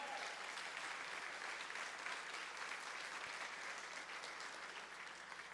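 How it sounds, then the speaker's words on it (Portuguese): A church congregation at a Sunday family worship service applauding, a steady, even wash of clapping from many hands that holds at an even level, heard from some distance in a large room. "Pode aplaudir o Senhor."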